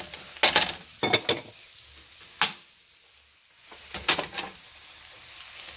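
Onions frying in a pan for a BBQ mushroom burger, with soft sizzling underneath and several sharp scraping stirs of a utensil against the pan in close bursts, then a quieter stretch.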